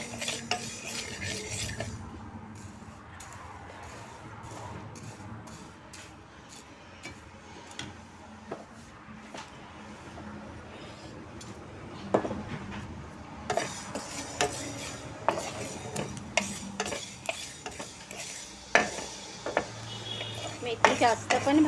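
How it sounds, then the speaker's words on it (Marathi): Fenugreek seeds roast in a pan, with a spoon stirring and scraping in irregular clinks and taps against the metal, growing busier and louder toward the end. "तर आता मी ही मेथी भाजून घेते."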